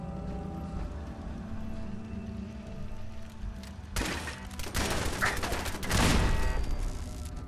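Gunfire against a turret in Fallout 4's Far Harbor, starting as a low hum of game ambience, then breaking into loud, dense bursts of shots from about the midpoint that build to a heavy crescendo near the end.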